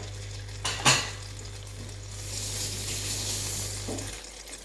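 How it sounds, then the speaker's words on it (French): Gluten-free French toast bread, soaked slices, frying in a pan: a steady soft sizzle runs throughout, with a brief clatter of utensil against pan near the start and a quiet scrape toward the end. "Je les mets dans la poêle."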